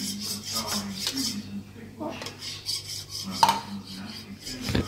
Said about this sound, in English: Whisk it a little bit harder.